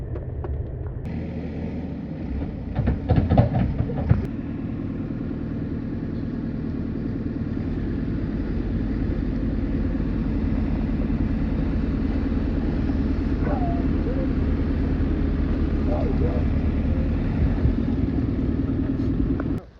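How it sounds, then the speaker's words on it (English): A friend's vehicle arrives to plough out snow on a sheep farm during a blizzard, its engine a steady, close rumble that holds through the whole stretch, with a few knocks and clatters early on. "a friend of ours is just arriving now, whatever the hell that is, to come and plough us out"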